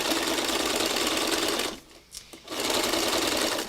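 A sewing machine stitches fabric held taut in front of and behind the presser foot, running steadily and close, cutting out for about a second midway, then resuming at full speed.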